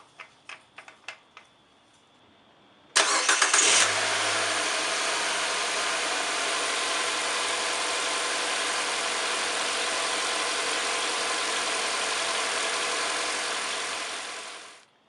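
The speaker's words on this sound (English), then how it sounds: "and start the engine." The engine of a 2012 Nissan Versa cranks briefly after a few light clicks, catches and settles into a steady, even idle that runs for about twelve seconds before cutting off, with no talking.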